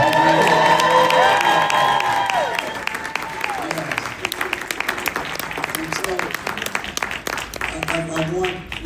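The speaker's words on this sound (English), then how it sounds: "Give him a round of applause." Crowd at a motivational speaking event bursting into loud applause mixed with cheers and whoops, voices prominent at first, then settling into sustained clapping with scattered shouts.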